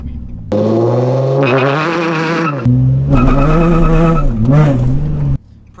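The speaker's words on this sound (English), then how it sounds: "Probably didn't launch at high enough RPM. Didn't get enough wheel speed." A Nissan 350Z launches from a standstill, loud close engine revving in two long surges with a brief break between them, then cutting off abruptly at the end.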